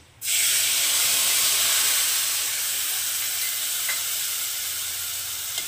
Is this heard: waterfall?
no